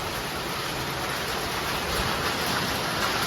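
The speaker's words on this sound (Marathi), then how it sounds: "बघा मे महिन्यात पण इथं पाऊस पडतोय" Rain falls during May at a spot on a Konkan trip near Pali, a dense, steady wash of drops at even loudness with no voices over it.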